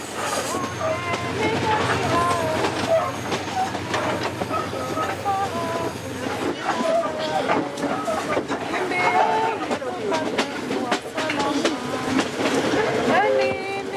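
A train in Congo rolls along the rails with continuous rumbling, rattling and clacking, loud and close from inside the driver's cabin, while people talk throughout.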